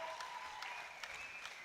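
Auditorium crowd at a European equipped bench press championship applauding steadily, dense continuous clapping with occasional sharper stamps or bangs, a full room cheering a record attempt.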